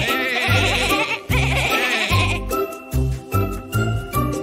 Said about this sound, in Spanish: así bala la oveja